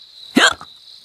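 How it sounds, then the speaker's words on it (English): A single short, sharp cartoon hiccup, close and clear, over a faint steady background tone. "I've got the hiccups"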